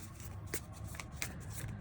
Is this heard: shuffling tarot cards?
yes